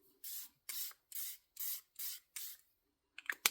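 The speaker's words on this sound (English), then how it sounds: "that's the Fenty spray" Fenty face setting spray pumped onto a face in six short, evenly spaced hissing bursts, close and clear, followed by a few quick clicks and rustles.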